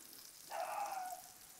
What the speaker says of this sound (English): just add some oil in between them. Let them fry up.